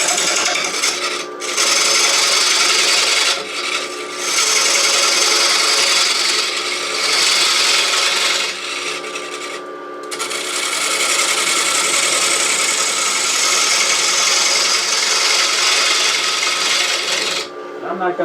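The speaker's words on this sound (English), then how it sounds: "it might even be easier to take that initial cut with a scraper" A scraper cuts into a large cherry burl bowl spinning on a wood lathe, giving a steady, loud rasping scrape that runs almost without a break, with a few short pauses where the tool lifts off.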